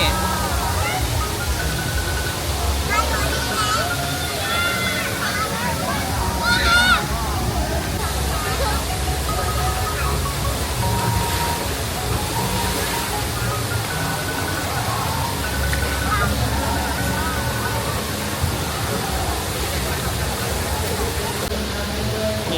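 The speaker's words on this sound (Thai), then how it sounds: "นี่มันจะน้ำตกลงมาแบบนี้" Water splashes and pours down steadily at a water park, a constant rushing wash with children's voices and crowd babble mixed in throughout.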